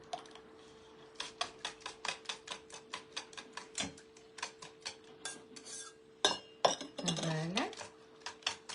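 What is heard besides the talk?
scraping cream out of a pot with a spoon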